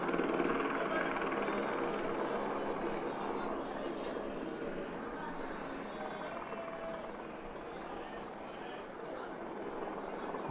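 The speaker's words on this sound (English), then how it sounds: "That's a police helicopter" A police helicopter drones steadily overhead above a cricket match, its rotor noise forming a broad continuous wash that holds at a similar level throughout.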